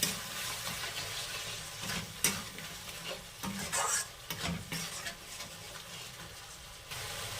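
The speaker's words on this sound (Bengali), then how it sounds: "টক দইটা দিয়ে ভালোভাবে নাড়তে হবে" Spiced Bengali bhola fish curry masala stirred in a pan after sour yogurt goes in, a steady scraping stir over soft sizzling with a few louder clanks of the spoon against the pan; no talking.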